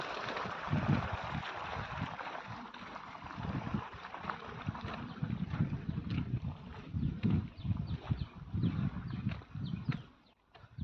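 Water gushing from a farm well onto coconut plantation land, a steady broadband rush with gusty wind buffeting the microphone throughout.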